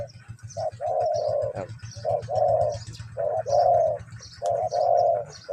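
Large turtle doves coo in repeated low phrases of a few hoots each, close and clear, with a steady low rumble beneath and faint chirps from other birds in the morning air.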